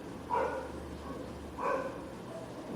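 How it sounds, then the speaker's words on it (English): A dog barks outdoors, two short clear bursts spaced about a second and a half apart, moderately distant and muffled as if heard through a doorway, with a faint steady low hum beneath. "Dog is very vocal today outside. Can you hear the dog?"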